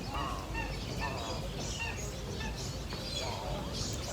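Birds in the peacock enclosure of Dubai Safari Park give loud, honking calls in repeated bursts over a steady outdoor background.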